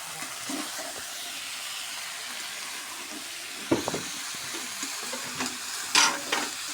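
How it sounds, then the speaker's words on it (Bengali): Potol (pointed gourd), kochu (taro root) and potato pieces fry in hot oil in a pan and get stirred now and then, a steady soft sizzle broken by a few louder scraping stirs. "এখন তরকারিগুলো দিয়ে দিলাম। পটল, কচুরমুখী আর আলু দিয়ে এটা এখন কষে নিচ্ছে।"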